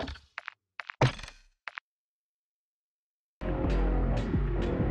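A knife takedown in Call of Duty Modern Warfare 2 (2022) lands as a few short, sharp thuds and whacks. After a brief silence, a loud, dense rumble of game noise follows.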